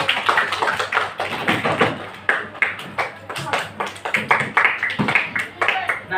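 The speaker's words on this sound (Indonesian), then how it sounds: "Tepuk tangan dulu." A fourth-grade class claps in a classroom, a quick string of uneven, fairly loud hand claps with no pause, and voices mixed in.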